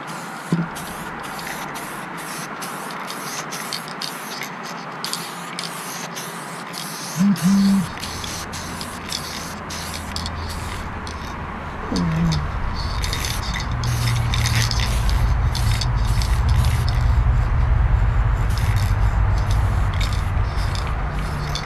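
Aerosol spray paint hisses in short and longer bursts as mirrors for a BMW E36 under restoration get a first coat. A steady low hum builds in the background, and brief clunks are heard between passes.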